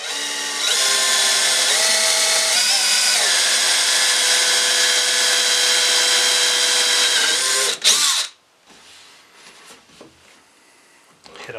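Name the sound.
power drill drilling peg holes in wood cabinet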